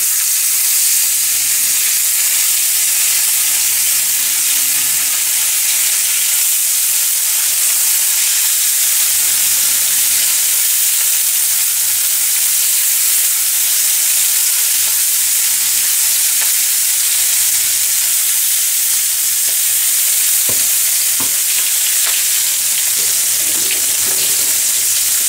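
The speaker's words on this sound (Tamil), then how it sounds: "எண்ணெய் சூடாயிடுச்சு. மத்தி மீனை வந்து போட்டுடலாம்." Sardines fry in hot oil on a dosa pan, giving a steady, close broadband sizzle that hisses evenly throughout with occasional small pops and crackles, and no voices.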